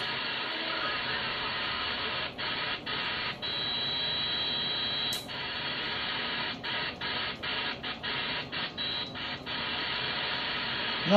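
Steady broadband radio static hisses throughout, broken by repeated brief dropouts and clicks, with faint distant skip stations from Jamaica and Trinidad buried in the noise.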